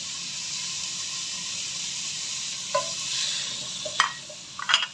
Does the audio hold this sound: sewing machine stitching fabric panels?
no